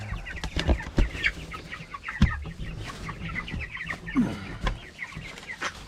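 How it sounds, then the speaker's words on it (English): Several chickens on a homestead cluck close by in a busy, uneven chatter, with short clucks and occasional louder squawks overlapping, no voices. "Hey, chickens! The people want to see you."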